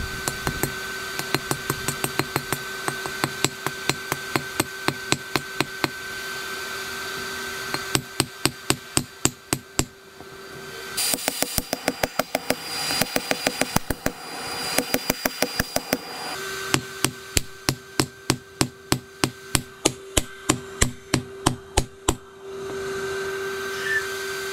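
A hammer forges rebar to taper a knife blade, landing loud, close blows in quick rhythmic runs separated by short pauses. A steady hum continues underneath throughout.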